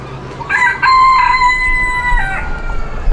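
A young rooster at the Honolulu Zoo gives one short, loud crow that breaks partway through, followed by a few clucks nearby, with no talk.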